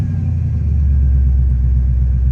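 A GM LS V8 engine idles with its RPM stuck high, a loud, close, steady low rumble and hum that holds without pause.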